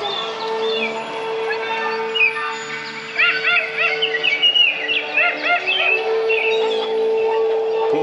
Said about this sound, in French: Pourquoi on entend les oiseaux?